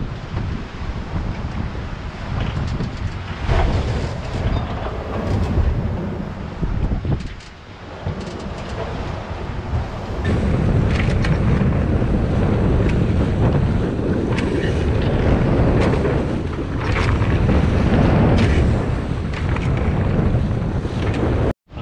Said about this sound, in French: Le vent commence à souffler, 25 nœuds, c'est de l'est-nord-est